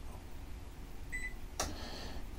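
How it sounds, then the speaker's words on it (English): A microwave oven clicks on: a single faint click followed by a short electronic beep against a quiet background hum. "I just heard the microwave click on"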